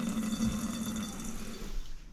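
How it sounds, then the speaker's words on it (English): Filtered water from an under-sink reverse osmosis faucet runs steadily into a sink, a constant watery rush with a low hum beneath that fades toward the end. "Now we can turn on the filtered water faucet and let this run for about a half an hour to clear things out."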